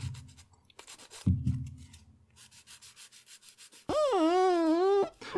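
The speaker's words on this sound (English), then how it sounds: "So work your way around and get all that nicely sanded." Plastic parts from a Bandai Perfect Grade Millennium Falcon model kit are sanded by hand with quick rhythmic rubbing strokes, close up, followed by a loud sweeping tonal squeal near the end.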